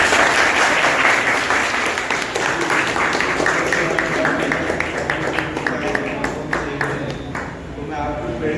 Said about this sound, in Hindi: इनके लिए तालियां बजती रहें।